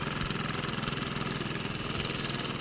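A 7 HP diesel engine runs on a farm with a loud, continuous, evenly pulsing chug that stays steady throughout.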